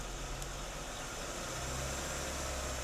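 A car engine holds a steady mid-range drone at about 2,000 RPM during a pedal familiarization drill, a continuous low hum with no talk over it.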